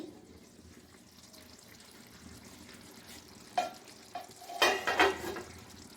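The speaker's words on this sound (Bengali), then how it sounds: "দেখুন, চিকেন রান্না হচ্ছে। এখানে রান্না চলছে চিকেন কষা" Chicken kasha cooking in a pan, with soft sizzling that swells near the end as a spoon stirs it, scraping and splashing louder in short bursts over a steady low background.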